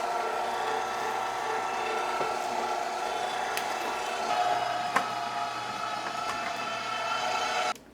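An electric meat grinder grinds venison and fat for homemade hot dogs, a continuous close motor drone with churning texture that runs steadily for several seconds before cutting off abruptly.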